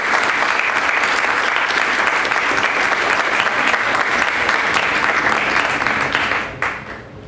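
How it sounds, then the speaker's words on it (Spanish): Sustained, loud applause from an audience welcoming guests at a solemn ceremony opening the commemorations of the Battles of Junín and Ayacucho, a dense even roar of clapping that tapers off at the end. "Un fuerte aplauso para ustedes"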